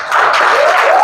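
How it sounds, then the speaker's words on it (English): A brief burst of audience clapping for Hope rises quickly and carries on steadily, with a voice faintly audible over it. "let's clap hands for Hope"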